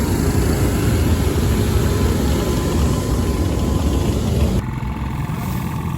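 Several engines idle with a steady, loud, low rumble for several seconds, easing slightly quieter near the end.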